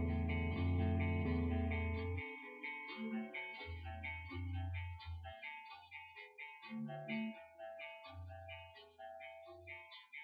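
An electric guitar tuned to drop D plays a riff, with low chugging notes and higher melodic figures mixed in, moderately loud and without talk.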